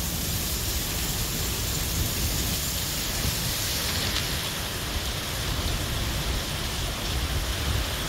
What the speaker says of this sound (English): That's how hard the rain was coming in.